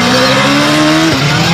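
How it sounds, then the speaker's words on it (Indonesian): Motorbike engine revving in an Upin & Ipin video game, a loud sustained whine with rising and falling pitch that dips sharply near the end before climbing again, no talking. "Main motor. Atraksi-atraksi motor Upin."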